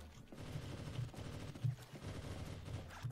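Rapid, faint gunshots from the golden gun in GoldenEye: Source, a multiplayer shooter, sound as a steady patter of low thumping shots with a few stronger hits, quiet and distant.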